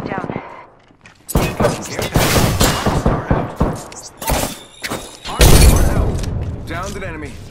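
Dense gunfire in the Apex Legends video game during a ranked match: rapid bursts of automatic fire and heavy thuds, loud and close, over a near-silent opening second, with game voice callouts mixed in.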